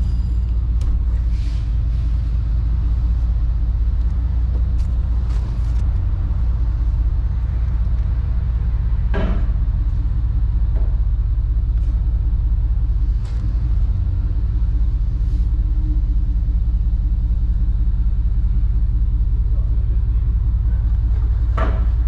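An OBS truck with an LS engine swap and a new exhaust rumbles steadily at idle, a deep continuous low drone with faint traffic ticks in the background.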